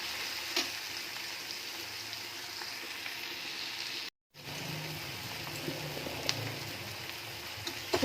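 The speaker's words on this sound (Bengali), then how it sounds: "পেঁয়াজ, টমেটো, ক্যাপসিকাম এগুলো আমি একটু ভালো করে ভেজে নেব।" Onions, tomatoes and capsicum frying in oil in a pan, a steady crackling sizzle with light stirring taps, briefly cutting out midway before resuming.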